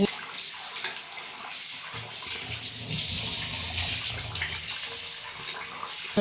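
Two cups of rice being rinsed by hand in water, a steady splashing and sloshing that swells louder around the middle, close and alone with no talk.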